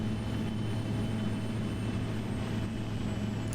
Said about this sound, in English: Someone just take off.